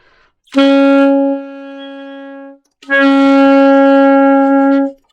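An alto saxophone plays the bottom side key pressed with the knuckle, producing two long sustained tones with a short gap between them, loud and close with no talking.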